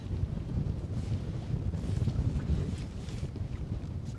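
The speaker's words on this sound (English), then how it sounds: "Keep getting these gusts." Wind gusts buffet the microphone aboard a sailboat in a low, steady rumble that swells and eases, with faint water sounds beneath.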